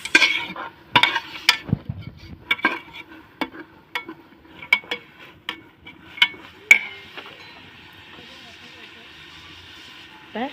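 Mushroom biryani ingredients being stirred in a pot over a wood-fired stove, with a series of sharp scraping and clinking strokes that come thick at first, then spaced apart, over a low background hum.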